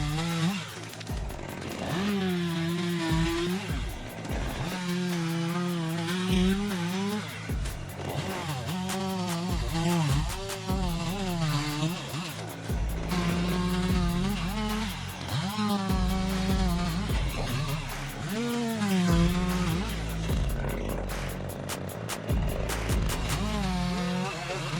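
A chainsaw cuts into an ancient tree from above, its engine snarling loudly and steadily, repeatedly rising and falling in pitch as the chain bites into the wood and eases off, for the whole span with no pause.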